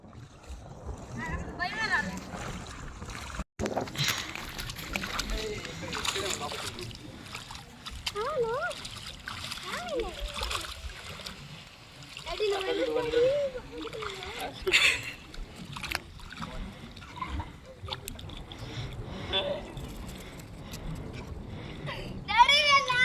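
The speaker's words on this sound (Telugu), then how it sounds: "ఓ ఈత కడుతున్నాడు డాడీ." Water splashes and sloshes in muddy Pulicat lake as someone swims near a boat, with children's voices and adult talk running throughout and intermittent paddling and knocking sounds.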